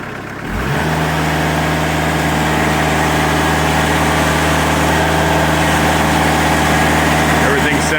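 Diesel engine on a Timberking sawmill starts from a low rumble, then runs up to a steady, loud, constant drone once the throttle is increased, holding for several seconds with no talking over it.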